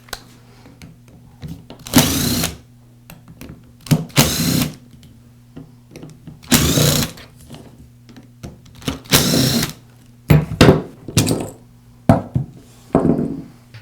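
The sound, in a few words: removing gearbox housing screws from Makita grinder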